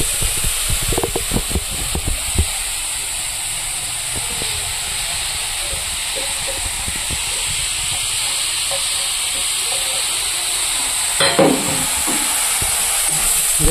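Chopped mushroom pieces frying in hot oil, a steady loud hiss and sizzle throughout, with occasional pops and a brief clatter near the end.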